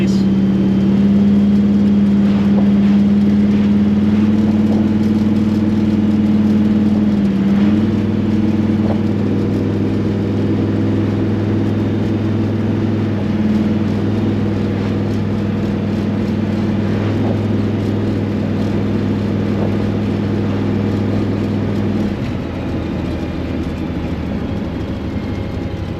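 A 1966 Ford Fairlane 500 drives along with a steady, loud engine drone and low rumble that holds for a long stretch, shifting pitch slightly and easing off near the end.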